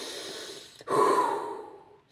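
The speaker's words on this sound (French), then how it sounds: "On te dit inspire, expire, inspire, expire." A person breathes deeply, a soft airy exhale followed by a sharp, clear intake of breath and a long, steady breath that slowly fades, close and alone with no talking.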